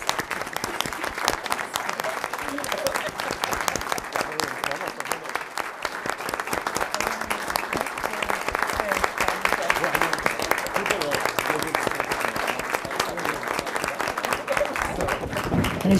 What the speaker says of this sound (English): I think now's the time to give Carlos a round of applause.